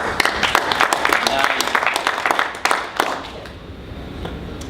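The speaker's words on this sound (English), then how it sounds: "Give her a round of applause." A support group audience claps in a brief burst of distinct, fairly close applause that fades out after a few seconds, with some speech around it.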